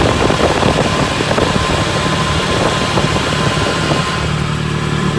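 A Nissan D21 Hardbody engine runs at idle with a fresh thermostat fitted, giving a loud, steady, close rumble with a slightly uneven mechanical throb throughout and no other sounds.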